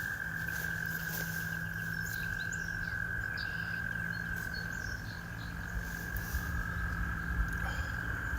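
Frogs croak at night beside a stream on a canoe outing, a steady, dense chorus mixed with chirping insects and an occasional distant bird, continuous and fairly close with no talking.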